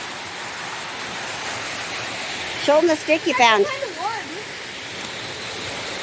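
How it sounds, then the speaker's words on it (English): Steady rushing roar of a big waterfall at Taylor's Creek in Kolob, Zion, a constant broadband wash of falling water heard close, with a voice speaking briefly over it midway. "But look how amazing this waterfall is."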